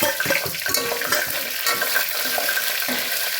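Whole spices, cinnamon, cloves, star anise and bay leaf, frying in hot oil in a pan, giving a steady close sizzle with soft scraping and stirring clicks throughout.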